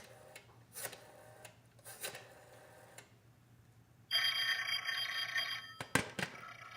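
Old-fashioned telephone ringing in a radio drama: a steady electric bell rings for nearly two seconds after faint rustling and ticking, followed by a sharp clunk.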